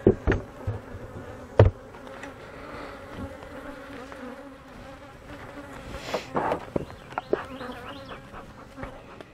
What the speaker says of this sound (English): bees kind of flying around on top of those frames there from other hives